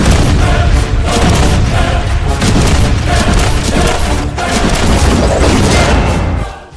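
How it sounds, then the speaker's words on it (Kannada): Dense, continuous booming explosion effects for a news promo about a bomb roll loudly for several seconds, then cut off abruptly. "ಅದು ನ್ಯೂಕ್ಲಿಯರ್ಗಿಂತ ನೂರು ಪಟ್ಟು ಅಪಾಯಕಾರಿ ಬಾಂಬ್"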